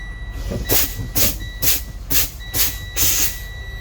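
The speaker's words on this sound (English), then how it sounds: "warning brake alarm activated, working properly." A truck's low air pressure brake warning sounds a steady high-pitched tone continuously while repeated loud bursts of hissing air from brake pumping break in, about six in a row, close up in the cab.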